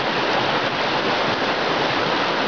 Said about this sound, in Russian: Это с храмового пруда идет вода в лагерный пруд.